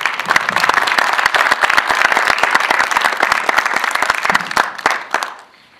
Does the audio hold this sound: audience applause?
yes